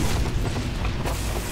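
Explosion in the video game Team Fortress 2, a short deep boom with a rumbling tail filling the brief moment, loud and close, with no speech over it.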